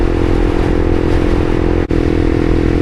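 Honda CBR300R motorcycle cruising at steady speed on a sunny day, a loud continuous engine drone mixed with rushing wind noise, with one brief dropout partway through.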